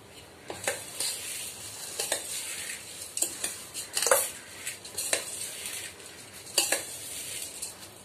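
A spoon stirs and scrapes bhelpuri ingredients with lemon juice in a bowl, giving a steady run of close, crisp rustling and clinking strokes in irregular bursts.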